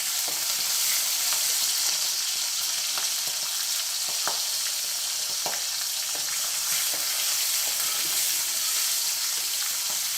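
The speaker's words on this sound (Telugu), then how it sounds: "పచ్చిమిరపకాయలు వేగాయండి." Green chillies frying in hot oil, a dense continuous sizzle with occasional crackles and stirring scrapes, close and steady throughout.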